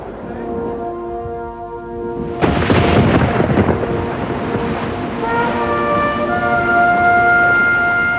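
Thunder rumbles in a heavy storm as a ship passes the Statue of Liberty, a deep roll breaking out midway over sustained musical tones and a low background wash.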